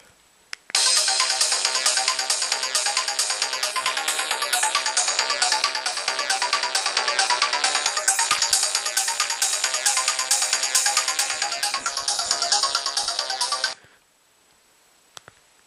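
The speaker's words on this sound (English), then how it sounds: "I get to play my ringtones." An LG VX9100 cell phone plays a ringtone, a bright, rhythmic electronic melody with evenly repeating beats that runs loud and steady for about thirteen seconds before cutting off to near silence.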